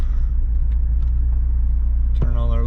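Suzuki GSX-R 1000 (2022) motorcycle engine idling with a loud steady rumble, then a sharp rev near the end that rises in pitch and falls back, close up.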